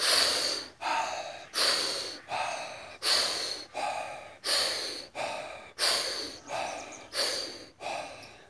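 Wim Hof power breathing, a rapid series of about eleven forceful mouth inhales and releases in an even rhythm, close to the microphone and alone.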